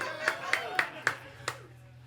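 Five sparse, separate hand claps ring out from a small audience at an art show and record release party, spaced about a quarter second apart with a brief gap before the last.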